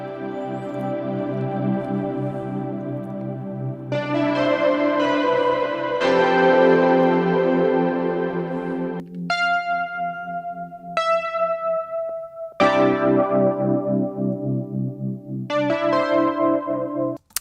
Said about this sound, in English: a little sneak peek patch from the Yamaha Reface CS is